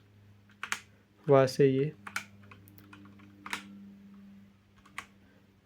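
Keys on a Cosmic Byte mechanical keyboard are clicked in sparse, sharp separate taps, close and crisp, while someone speaks between and over the clicks.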